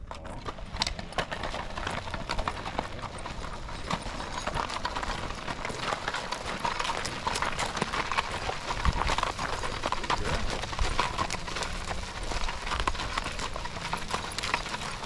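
Hooves of a young mare named April clip-clop steadily as she is driven in harness during training, a continuous rhythmic clatter over a busy, noisy background with no talk.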